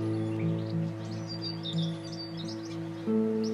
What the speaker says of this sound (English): Birds flit in and out of trees.